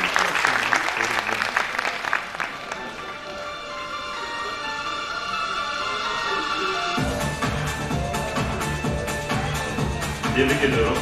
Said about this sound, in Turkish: Hanımefendiye kocaman bir alkış.